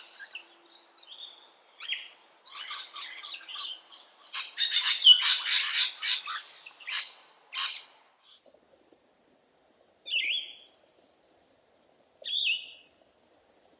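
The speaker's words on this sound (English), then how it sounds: "Pale-headed rosellas feed mainly on the ground, but also in trees and shrubs." Pale-headed rosellas calling, a dense run of high chattering chirps followed by scattered single whistled notes, close and clear with no voices.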